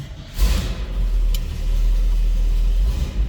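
The 1984 Chevrolet K10 pickup's engine turns over in a cold start and settles into a deep, steady low rumble, close and fairly loud, with no talking.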